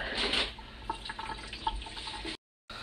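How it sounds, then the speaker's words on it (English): Water poured off softened pho noodles, a continuous splashing and trickling with scattered drips, moderately close, ending in a brief silence before the flow resumes. "We are going to dump out the water."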